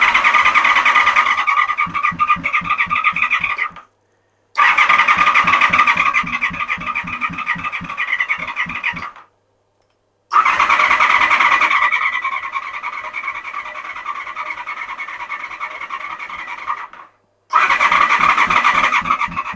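A Honda VFR400R NC24 motorcycle engine cranks loudly and close by, with a rapid rhythmic churning, in three long attempts separated by silent gaps. It never catches and settles into running.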